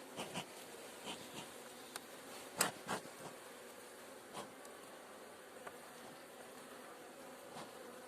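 A steady hum of many bees buzzing close by, with scattered soft knocks and rustles of hive frames over the top.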